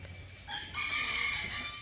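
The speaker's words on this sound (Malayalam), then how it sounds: "നല്ല കിളികളുടെ ശബ്ദമൊക്കെ ആയിട്ട് വളരെ സമാധാനമാണ് കോഴിയുടെ കൂവൽ" A rooster crows once in the middle distance, a drawn-out call rising and holding over a low background hum, with no talking.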